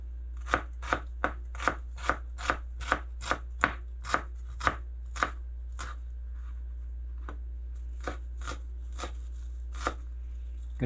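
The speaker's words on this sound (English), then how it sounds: "I'm going to do the same with our onion." A knife chops garden onion on a cutting board: a dozen crisp, evenly spaced knocks, then a pause and a few more sparse strikes over a low steady hum.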